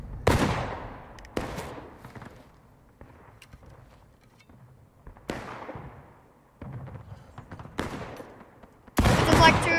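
Musket volleys at a Jenkins'-style Civil War reenactment skirmish: several sharp, loud black-powder reports spaced a few seconds apart, each echoing and decaying across an open field, with a final burst near the end.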